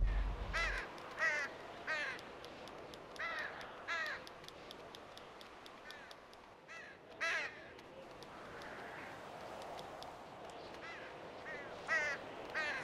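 Crows caw repeatedly in Grand Theft Auto V, a series of short harsh calls scattered across the scene at moderate distance over a steady ambient game background.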